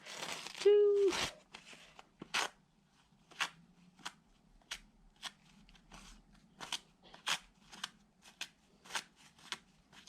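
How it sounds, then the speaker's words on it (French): Toilet paper being torn into small pieces, a series of short crisp rips at a steady pace, close by, with a brief hum near the start. "On fait des petits bouts de papier."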